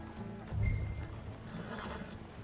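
Horses neigh in the Red Dead Redemption 2 video game, one clear whinny rising near the middle over a soft clip-clop and low background rumble, fairly quiet and brief with no talking.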